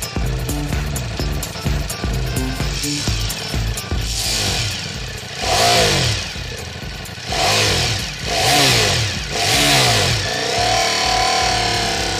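A Ducati Diavel V4 motorcycle ridden through city streets in São Paulo, its engine revving up and down in repeated loud surges with clattering mechanical noise between them, close by.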